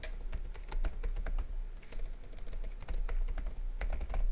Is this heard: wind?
no